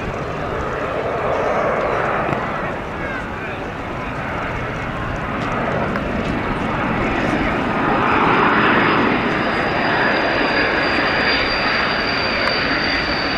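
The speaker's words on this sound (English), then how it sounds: "This C-160 making a combat approach, also known as the Sarajevo approach." A C-160 military transport plane flies a steep combat approach, its turboprop engines giving a loud, continuous droning roar that swells and holds throughout with no talk.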